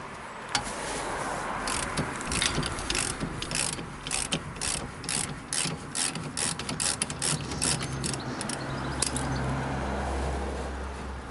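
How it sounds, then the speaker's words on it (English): A ratchet and socket turn on a Land Rover Freelander 2 during a rear wheel bearing replacement, giving a long run of close, rapid mechanical clicks in uneven bursts with brief pauses, and no voices. "Ratchet. Socket. Yep."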